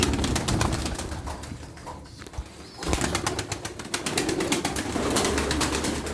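Pigeons coo repeatedly at a bird sale in Darıca, soft throaty calls layered over a busy background with occasional wing flutters, no talking.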